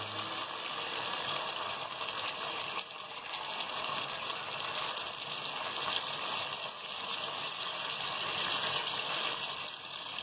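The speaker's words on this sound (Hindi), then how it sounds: "अब 2 गिलास पानी ऐड कर देंगे हम।" Two glasses of water pour into a cooking pot of butt (tripe) stew, a steady gushing splash lasting several seconds with a faint rattling metallic undertone, no voices.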